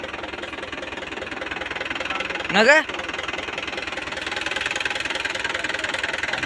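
Mahindra tractor diesel engine chugging steadily nearby, a rhythmic low rumble throughout, briefly interrupted by a short rising whistle-like sweep, with people talking over it.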